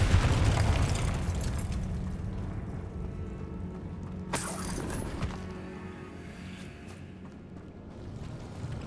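A Confringo explosion spell in the video game Hogwarts Legacy bursts with a heavy boom at the start, then a rumbling tail that slowly fades, with a sharp crack partway through.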